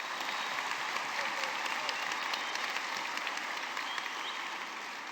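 Steady applause from a church congregation during an Easter resurrection service, dense and sustained throughout, moderately distant with no voices over it.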